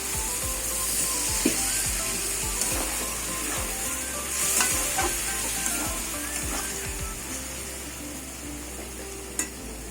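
Ghugni masala with dried peas frying in oil in a pan, a steady close sizzle with repeated scraping stirs of a spatula against the pan throughout.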